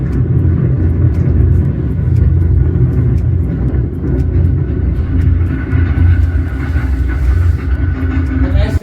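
Custom-built car known as The Beast, roaring loudly as it accelerates at speed, a steady heavy rumble that fills the whole clip with no pauses.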